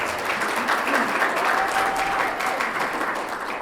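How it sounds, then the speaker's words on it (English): Audience applause at a city State of the City address in Whittier, a dense, steady clatter of clapping from a crowd that carries on without pause at an even loudness throughout. "let's give her a round of applause"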